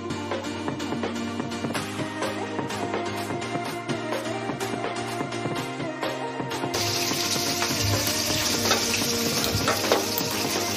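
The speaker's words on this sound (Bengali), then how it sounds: "তারপরে আমি আর কি টমেটো আর বেগুনটা পোড়াতে দেবো।" Tomato and eggplant rubbed with mustard oil roast directly over a gas flame, giving a steady close crackling sizzle and hiss that grows louder partway through, with no talking.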